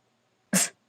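A single short, sharp sneeze bursts out of near silence, close and abrupt.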